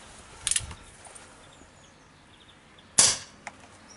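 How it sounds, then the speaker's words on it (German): Two sharp, snappy shots from a Colt SAA .45 Ranger Edition 5.5-inch CO2 revolver firing 4.5 mm steel BBs, each a crisp crack with a brief tail, spaced about two and a half seconds apart in a quiet setting. "Sechs Schuss gebe ich ab, also eine Trommelladung."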